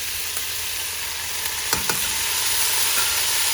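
Rice being stir-fried in a pan with white pepper powder, crushed red chili, garam masala, vinegar and soy sauce, giving a constant loud sizzle with two quick utensil scrapes in the middle.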